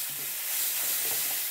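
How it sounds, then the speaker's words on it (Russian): Two kilograms of sugar being stirred into homemade hawthorn and chokeberry wine in a pot, a soft continuous hissing, gritty swish, quiet and close, with no talking. "Размешать надо хорошо."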